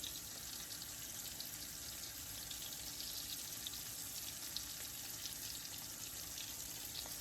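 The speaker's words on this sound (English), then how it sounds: "we're frying up the shrimp" Shrimp frying in oil for po'boys, a steady broadband sizzle and crackle that runs evenly without a break, close and moderately loud, with no voices.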